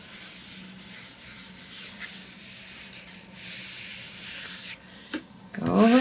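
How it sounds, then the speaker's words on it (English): Fingertips rub steadily across the back of gel print paper laid on a printing plate, a continuous close, dry scraping hiss that runs for several seconds before a brief pause and a sharper final rustle. "Flip it over. Rub with my fingers."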